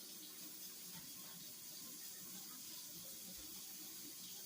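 Hot water runs steadily from a tap to measure water for chilli mac and cheese, a faint continuous hiss that persists unbroken throughout.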